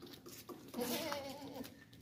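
A large, heavy, tall goat bleats once near the microphone, a wavering cry lasting under a second amid faint background noise.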